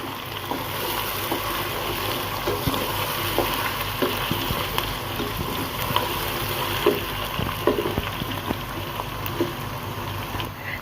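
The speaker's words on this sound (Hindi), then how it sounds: "इसमें डालेंगे लहसुन अदरक का पेस्ट। इन्हें भी 1 मिनट के लिए ऐसे फ्राई करेंगे।" Potatoes frying in a pan with garlic-ginger paste for a potato bhujia, a steady close sizzle and crackle with occasional stirring clicks throughout, no talking.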